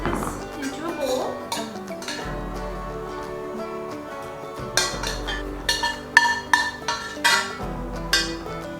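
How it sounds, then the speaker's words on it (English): Nepali-style cauliflower and potato curry being spooned from a pot into a bowl, with metal utensil scrapes and several sharp clinks against the cookware, close up, while a person talks. "So I'm going to transfer this into a bowl."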